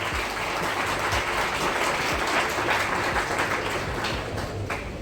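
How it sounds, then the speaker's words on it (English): Audience applause for a student at a school science day event, steady, dense clapping from a large crowd that holds at an even level throughout. "Let's give her a big round of applause."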